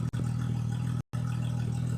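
Porsche GT3 Touring engine idling with its exhaust valves closed, a steady low hum with faint clatter holding even for two seconds, broken by a brief dropout near the middle.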